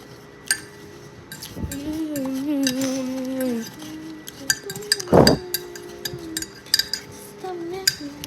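Utensil clinking and scraping in a bowl while ingredients are mixed, with sharp metallic taps and a ringing strike near the middle, close up; brief wordless vocal tones early on.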